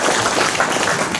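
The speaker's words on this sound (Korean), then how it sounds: "4반에게도 좀 박수를 한번." A crowd of classmates at a school alumni reunion applauds the runner-up class, a brief dense burst of many hands clapping steadily without pause.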